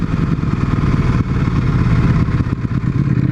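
A superbike ridden hard, its engine roaring loud and close with a rough, throbbing drone that dips and surges slightly as the ride goes on, with no one speaking.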